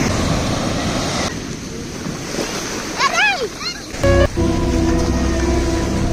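Sea waves at a beach in Konaseema wash in as a steady, close roar of surf and wind, with voices and brief calls rising over it midway.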